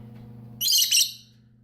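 A pet parakeet gives a quick burst of bright chirps over a low steady hum, close and fairly loud, then falls quiet.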